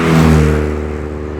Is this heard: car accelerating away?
yes